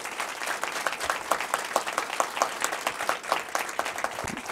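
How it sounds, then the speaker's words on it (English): Steady applause from an audience at a community safety forum, a room full of hands clapping at a moderate level, with individual claps standing out in the close, rhythmic patter. "So can I please have a round of applause?"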